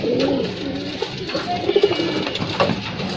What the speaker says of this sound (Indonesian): Jadi merpati ini kayak gini ya kalau udah mulai giring ya.